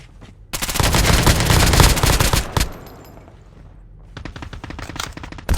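Rapid automatic gunfire in the Call of Duty Mobile video game, a loud sustained burst followed by a pause and then another volley of dense shots, with no talking.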